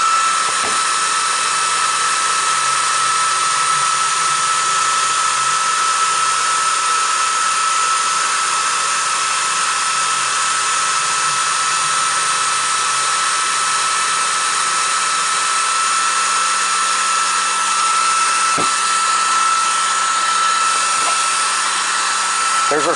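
An Atomstack S20 laser engraver turning stock on an Xtool RA2 rotary chuck gives a steady, continuous whir with a high, even hum. A soft pulsing motor tone runs underneath, and a few faint clicks come near the end.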